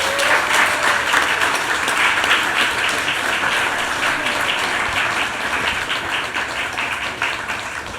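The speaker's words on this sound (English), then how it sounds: "applaud this conversation that we've been listening to" Audience applause at a literary festival tribute event for Gordon Rohlehr, steady and dense crowd clapping that holds at a constant level throughout, with no voices over it.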